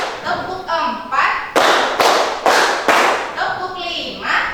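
A group of people clapping together on cue in a classroom, loud bursts of hand claps rising in number through the count, with a leader's voice calling between and over the claps.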